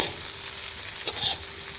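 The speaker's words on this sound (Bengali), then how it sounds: "সেদ্ধ করা আলুটাকে এবার তেলের মধ্যে দিয়ে দেবো" Boiled potato frying in hot oil with cumin and spices, a steady close sizzle with a couple of soft stirring scrapes.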